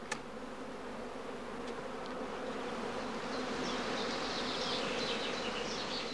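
A honeybee prime swarm fills the air with a steady, dense buzzing drone of countless bees, loud and continuous throughout, with no talk.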